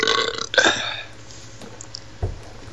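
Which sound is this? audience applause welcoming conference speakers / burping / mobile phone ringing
burping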